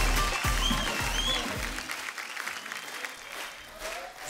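Audience applause welcoming a music director at an event, a full crowd clapping that fades gradually toward the end, with a few low thumps early on.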